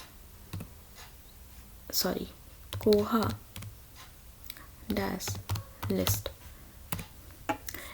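Keys clack on a computer keyboard as a Koha library software command is typed at a Linux terminal, in short uneven bursts of clicks separated by pauses, fairly close and alone.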